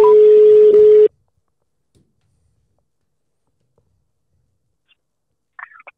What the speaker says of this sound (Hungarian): és akkor telefonálunk is gyorsan Makrai Lászlónak